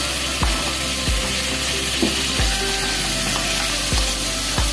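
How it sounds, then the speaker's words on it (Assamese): Chopped tomatoes sizzle loudly and steadily in hot oil with red chili powder, a continuous close frying hiss broken by a few low knocks of a utensil against the pan. "এতিয়া ইয়াত টুকুৰা টুকুৰকৈ কাটি লোৱা বিলাহীখিনি দি দিম"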